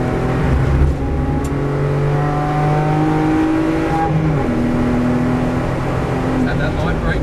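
Car accelerating out of a corner on a race track after hard braking into third gear, its engine note climbing and pulling steadily. The engine is loud and close, like from inside the cabin, with continuous road and wind roar underneath.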